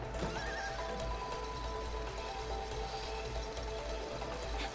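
A horse in the video game It Takes Two neighs and whinnies with clip-clopping hooves, a loud, close, sustained game sound over steady background noise.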